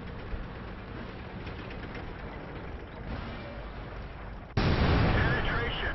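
A tank gun fires in a World of Tanks battle: a sudden, loud, broadband blast that follows several seconds of rumbling engine noise, with someone talking through the scene.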